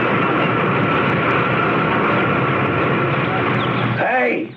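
A big helicopter roars steadily and loudly, a dense rumbling drone that fills the scene before cutting off near the end as a sound effect in a radio drama.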